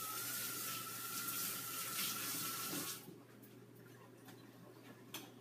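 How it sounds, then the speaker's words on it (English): Kitchen tap runs steadily as hands are rinsed under it, a close, even water hiss that stops abruptly partway through, leaving faint clicks and room noise. "I'm going to rinse my hands off because this is sticky."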